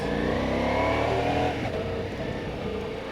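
A Ducati Multistrada V4S motorcycle engine revs steadily and loudly on a road, the V4 note swelling and then easing slightly toward the end, with no talk over it.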